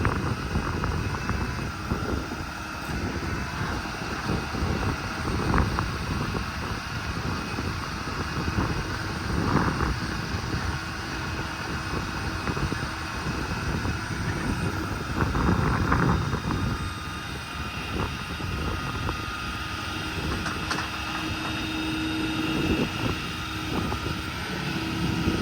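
A 2016 Peterbilt 330 with a PX7 diesel runs its Stellar 10621 crane at full speed, producing a continuous loud drone of engine and hydraulics with a few faint clanks, steady from start to finish.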